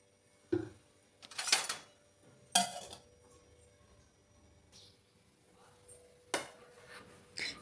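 A metal pot holding water, cucumber pieces, green chilies, salt and turmeric is set on a stove, giving a few sharp, scattered clanks and clinks with quiet gaps between them and no speech.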